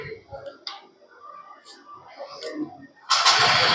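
Yamaha Ray ZR Street Rally hybrid 2024 scooter engine starting, a loud broadband burst near the end that follows quieter handling noises and brief clicks, with someone talking just before.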